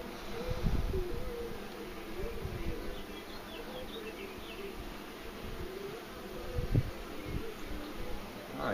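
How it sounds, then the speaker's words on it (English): Honeybees buzzing at an open beehive, a soft, steady insect drone with close wingbeats passing by the listener, accompanied by occasional light rustling and thumps from handling the hive, no voices. "Alright, honeybees, you gotta go to making some honey."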